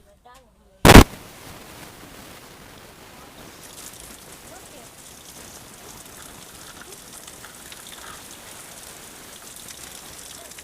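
Steady rain falls on an outdoor surface for about ten seconds, a loud sharp burst at the start giving way to a dense, even patter with no talk over it.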